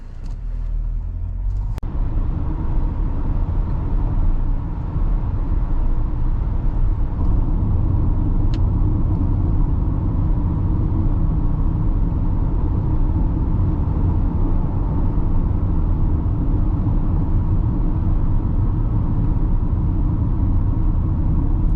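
A Haval H6 SUV's engine under hard acceleration from about 80 km/h, heard from inside the cabin as a loud, steady droning rumble that holds without a break throughout.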